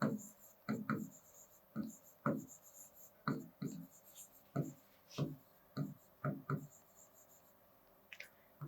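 Pen or marker strokes writing out an algebra expression for a Class 7 maths lesson, a run of short scratchy bursts in an uneven rhythm, close and fairly quiet.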